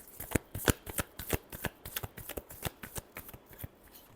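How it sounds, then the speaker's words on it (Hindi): A deck of tarot cards being shuffled close up, with a quick run of crisp riffling flicks and taps at an even, rapid rhythm for a few seconds. "Last shuffle."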